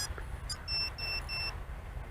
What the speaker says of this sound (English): You heard that 3 beeps. That has disarmed the alarm.